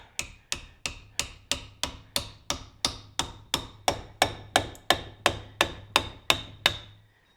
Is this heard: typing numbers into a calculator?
no